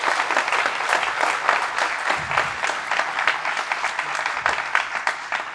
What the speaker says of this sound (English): So let's all give our panelists a round of applause.